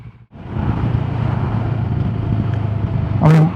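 A CFMoto CL-X 700 Adventure motorcycle rides along with a steady low engine drone under heavy wind rush, close and fairly loud, with a brief louder burst near the end.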